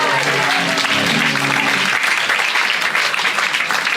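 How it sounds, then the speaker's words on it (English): Live podcast audience at a comedy show breaking into loud, dense applause that carries on steadily throughout, with a brief voice heard over the start. "give him a big round of applause"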